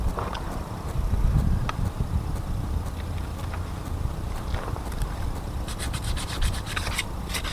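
A brake part from a 2009 third-generation Toyota Prius scrubbed to smooth it, a continuous close rasping rub with bursts of sharper scratching toward the end, alone without talk.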